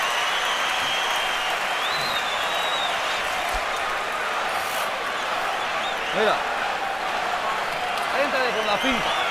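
A boxing arena crowd at a Floyd Mayweather vs. Miguel Cotto fight roars and applauds in a steady dense wash, with cheers rising now and then, while a commentator talks over it.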